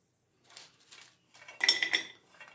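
Dry chillies and spices (coriander seeds, fenugreek, mustard seeds, cumin, coconut) tossed in a pan on the stove, giving scattered clinks and rattling scrapes that grow busier and louder toward the end.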